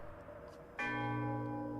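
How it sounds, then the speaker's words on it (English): A large bell in The Banner Saga 3 rings out once after its rope is pulled hard, a bright metallic strike followed by a long steady sustained hum, with softer ambient tones before it. "The bell swings hard and"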